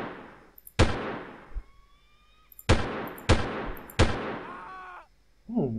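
Loud, close gunshots from the video game Delta Force ring out as single sharp reports, about five spaced apart with echoing tails and faint game tones between them.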